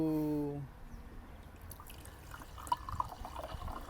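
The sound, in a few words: mineral water being poured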